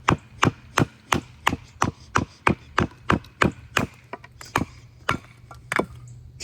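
A Bolte Jungle Survival A8 knife chopping into wood, sharp close thwacks landing in a steady rhythm of about sixteen strikes, each a crisp loud impact with a brief splintery tail, no voices.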